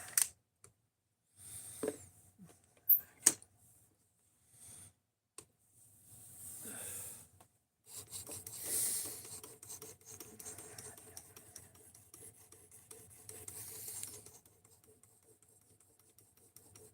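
Knife blade rubbed across 2000 grit abrasive, with scattered clicks, then soft rasping strokes, mostly quiet and close, in intermittent bursts with pauses between them.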